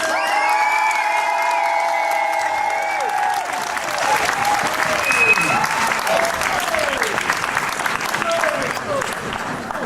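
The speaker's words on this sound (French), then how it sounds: "Applaudissez!" Crowd applause with cheers and whoops at an outdoor troubadour tournament in Gruyères, voting for the Mandragores; a voice and music fade as loud clapping and shouting build and carry on.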